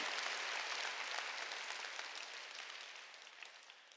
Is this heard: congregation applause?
yes